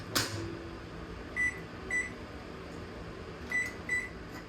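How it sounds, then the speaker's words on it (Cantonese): A microwave oven hums steadily while cooking chicken with leek and miso, with a sharp click at the start and a few faint high beeps or rattles over the constant drone. "咁記住用微波爐煮食嘅要訣就係唔好諗住偷懶射咗佢啊！"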